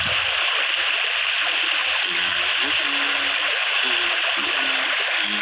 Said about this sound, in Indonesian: Nah, ini nih suara sungai.